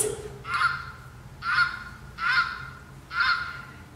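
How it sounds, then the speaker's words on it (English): Four evenly spaced goose honks ring out one after another, loud and nasal against a quiet background, with no voices. "Everybody loves geese."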